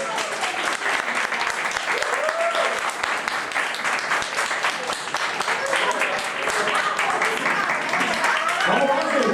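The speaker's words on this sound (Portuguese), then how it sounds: "Salva de palmas para os nossos dubladores." Sustained applause from the audience at a press conference for dubbing voice actors, thick continuous clapping with voices calling out over it.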